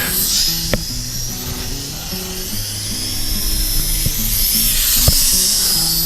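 A Syma X9 flying car drone buzzes overhead on a flyby, its small motors whining steadily at high pitch and swelling slightly as it passes, with some outdoor wind around.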